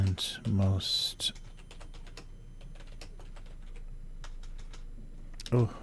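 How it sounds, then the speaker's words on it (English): Computer keyboard typing during a livestream: a fast, close run of light clicks and taps, with brief bursts of speech at the start and end. "Oh, nice typing today."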